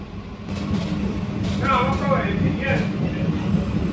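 A Sealdah–Kalyani air-conditioned local train in West Bengal, India, rumbles steadily along the tracks while a voice talks briefly over the continuous low clatter.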